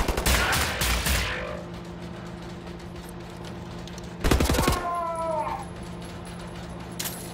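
Bursts of gunfire in Wolfenstein: The New Order, with a rapid volley at the start and a second sharp burst midway, set over a low game hum and a few whining effects.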